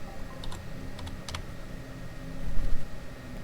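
Scattered clusters of computer keyboard keystrokes, a few quick taps at a time, over a low steady hum of room noise.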